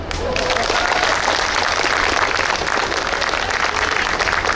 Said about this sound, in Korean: 시장님한테 박수 한번 주십시오